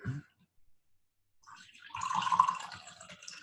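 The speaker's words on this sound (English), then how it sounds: "Pour some more yerba mate" Water is poured for yerba mate, a soft trickle that swells into a steady, close, gurgling stream lasting a couple of seconds after a near-silent pause.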